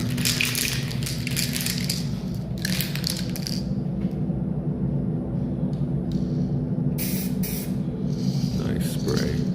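An aerosol spray can hisses in several bursts, some long and some short, with a low rumbling background between them.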